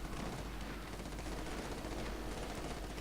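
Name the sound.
gunfire on a position in Company of Heroes 2, video game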